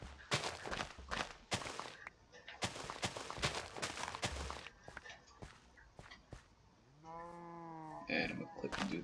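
Cow in Minecraft on PS3 lowing in a single drawn-out moo near the end, preceded by a run of loud crunching block-breaking thuds and footsteps.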